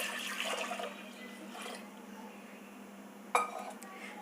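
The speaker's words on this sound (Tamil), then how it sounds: "நான் 4 கப்பு தண்ணி விட்டுக்கிறேன்." Water poured into a pot of washed lentils in a home kitchen, a faint, soft splashing rush early on, followed by quiet and a sharp clink of the pot near the end.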